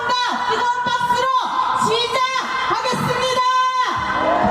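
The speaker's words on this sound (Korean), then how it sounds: "조합원 동지들의 힘찬 함성과 뜨거운 박수로" Union members of an education public-service workers' branch raise loud whoops and cheers at a general strike rally, a dense crowd roar with rising shouts that swell and fade in waves.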